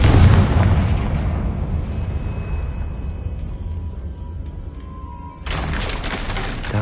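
Explosive blast of the Confringo spell in a Harry Potter-style video game, a loud burst and crackling debris at the start that fades over several seconds before a second surge of noise near the end.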